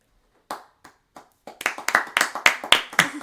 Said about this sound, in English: You clapping.